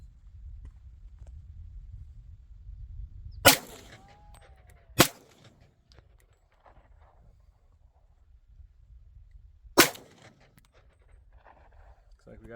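A Smith and Wesson M&P 2.0 10mm pistol fires jacketed hollow point rounds outdoors, giving three sharp, separate reports at irregular intervals with quiet stretches between them.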